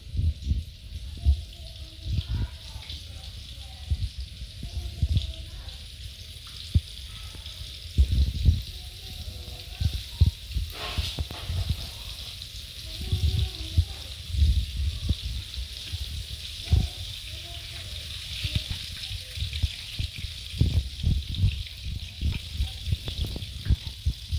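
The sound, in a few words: fish frying in hot oil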